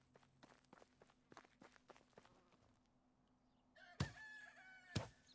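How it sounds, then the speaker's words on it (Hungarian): Rooster crowing in the farming game Medieval Dynasty, a bright, loud call near the end after a stretch of rhythmic footsteps, followed by a second sharp burst. "visít a kakasom."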